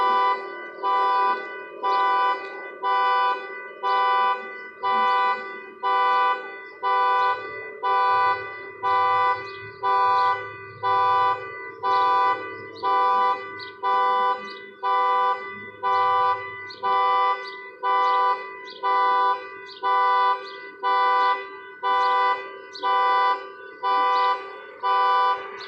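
A car alarm blares on and on in a steady pulsing pattern, loud repeated horn-like tones at an even pace for the whole stretch, with no one speaking over it.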